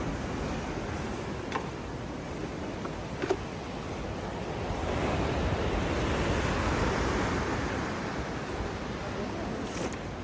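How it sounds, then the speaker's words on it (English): Ocean waves break continuously on a steep beach at Nusa Penida, Bali, a broad roaring wash that swells louder midway, with wind buffeting the microphone and a few faint clicks. "Them waves are scary."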